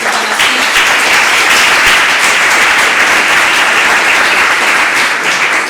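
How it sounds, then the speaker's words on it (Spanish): A university audiovisual pitching event's audience gives loud, sustained applause to two screenwriters being introduced. The thick, even clapping holds steady throughout, with no speech over it. "Fort aplaudiment per a ells."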